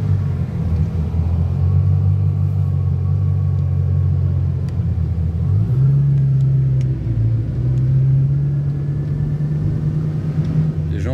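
Heard from inside one of three Bugatti Chiron cars driving in convoy, a deep, loud engine rumble holds steady, with the pitch shifting slightly as the car changes speed.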